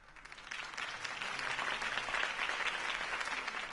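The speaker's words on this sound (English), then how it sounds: "If only Mr. Wayne, my campaign's largest backer, could have heard that applause" Crowd applause following Harvey Dent's campaign speech, a steady, dense rush of many hands clapping that swells slightly and holds, moderately loud throughout.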